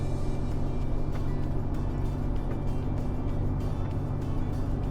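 Regional truck engine running in 8th gear at about 1800 RPM while descending a mountain without engine brakes, a loud steady drone with constant low rumble throughout, no talk.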